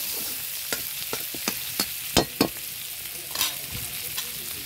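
Onion and garlic fry in a pan with a steady close sizzle, broken by a series of sharp stirring scrapes and taps that cluster mid-way; no one speaks.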